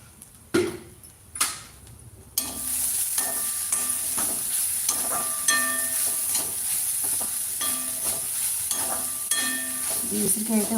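Curry leaves hit hot oil in a frying pan for amla pulihora tempering, bursting into a loud, continuous crackling sizzle after a couple of clanks, with pops and stirring scrapes running steadily to the end.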